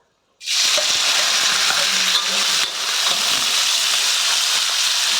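Duck skin hits a hot pan with a sudden loud sizzle that keeps frying steadily, a few stirring clanks under the crackle.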